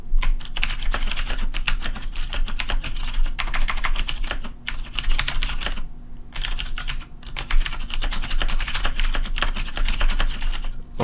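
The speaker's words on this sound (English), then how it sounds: "you can also just type in natural language." Steady, close typing on a computer keyboard: a dense run of rapid key clicks that pauses briefly twice and then carries on, with no voices.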